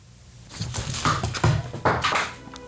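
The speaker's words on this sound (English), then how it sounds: "Fucking cat knocked the thing over." A cat knocks an object over indoors, producing a short run of clattering, thudding knocks and scrapes over about two seconds, fairly close and moderately loud with no voices.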